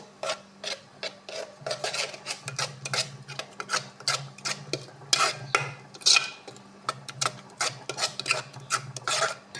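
Idli batter being mixed with finely chopped green chili, mustard seed, cumin and asafoetida tempering gives repeated scraping, rasping strokes of a spoon against a steel bowl, rhythmic and close, with a low steady hum beneath.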